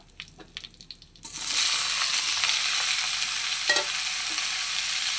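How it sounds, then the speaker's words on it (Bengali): Elephant apple (chalta) pieces in a pan, a few soft clatters at first, then a loud steady sizzle and scraping stir that carries on to the end, no talk. "চালটাগুলো একটু নাড়াচড়া করে নিব অল্প আছে রান্না করব"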